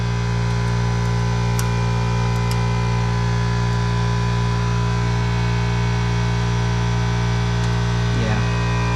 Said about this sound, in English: El compressor. Sorry for the noise,